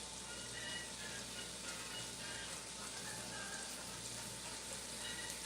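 Garlic shrimp sizzling in a frying pan, a steady, faint crackling hiss that stays even throughout with no talk.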